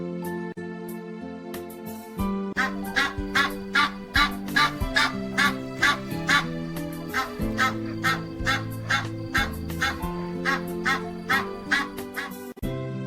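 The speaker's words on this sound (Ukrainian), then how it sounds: "крик гусей" Rapid, evenly spaced honks repeat over a steady musical backing, loud and close, like a flock of geese calling in rhythm.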